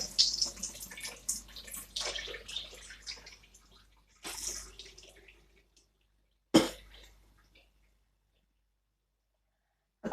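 Soaking water drained off abacha, dried shredded cassava, in a home kitchen: a few seconds of splashing and trickling, then quieter drips, a couple of sharp sudden splashes and long silences.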